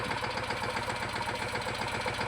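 A tractor engine idles nearby with a steady, rough mid-pitched chug and faint knocking vibration, continuous and even, with no voices.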